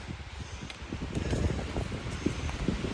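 Strong wind gusts on an Appalachian Trail mountain section near Roan Mountain, Tennessee, rumbling and rushing steadily against the microphone, swelling louder midway with soft rustling and thumps underneath.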